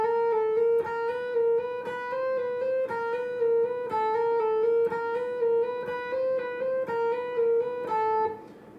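A guitar legato finger-trill exercise: rapid, even hammer-on and pull-off notes alternating between two pitches in steady groupings, clean and moderately quiet, played alone for several seconds.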